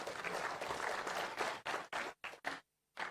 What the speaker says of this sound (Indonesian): Saya ingin memberikan tepuk tangan untuk DPR.